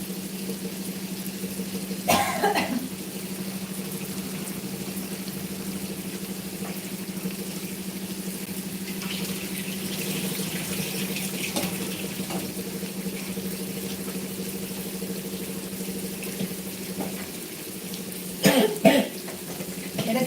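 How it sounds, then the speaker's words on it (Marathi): Cut potato is rinsed under a running kitchen tap, giving a continuous steady wash of water. A person coughs briefly near the start and twice more near the end. "याला आता आपण मस्त स्वच्छ धुवून घ्यायचा"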